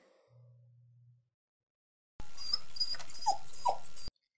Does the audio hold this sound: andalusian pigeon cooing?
no